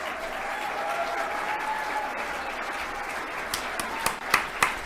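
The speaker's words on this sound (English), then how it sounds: "Are the people at the table actually clapping?" Applause from people at a table during a public hearing, a steady mid-level wash of clapping with a few sharper claps near the end.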